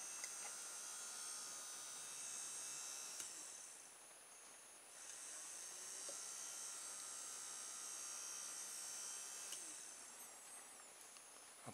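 A small electric motor spins a little propeller fan blade held by a bent paper clip, giving a steady, faint high whine and hum that stays even throughout, with a brief dip partway, close up and alone.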